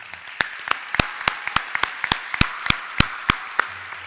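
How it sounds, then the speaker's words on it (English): Sparse applause from an audience at a high school graduation ceremony for a retiring staff member, a dozen or so sharp, separate claps spaced out over a few seconds, fairly close and with no talking. "can I get a round of applause for Miss Vedeka?"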